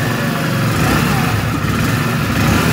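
A 2024 Hero Splendor Plus Xtec 2.0 motorcycle engine runs inside a showroom, giving a loud, steady, close-up hum with no break for the whole stretch.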